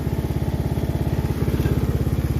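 A Craftsman riding lawn mower's engine idles close by with a loud, steady, rapid chugging pulse and a slight surge partway through, with no voices.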